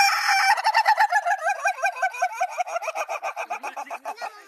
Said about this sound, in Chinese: 这是公鸡，它的叫声是这样的。